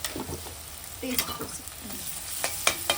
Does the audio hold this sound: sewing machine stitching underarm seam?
no